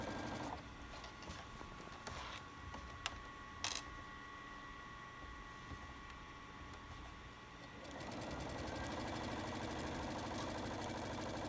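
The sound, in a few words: sewing machine sewing quilt border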